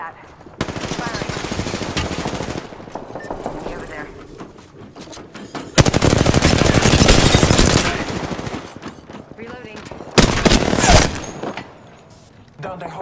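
Automatic gunfire in the battle royale game Apex Legends comes in loud, close rattling bursts separated by quieter gaps, with a player talking over parts of it.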